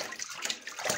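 Cold water splashed onto the face at a sink during a morning shave routine, with a short run of wet splashes and dripping over about a second, close and fairly loud, with no talking.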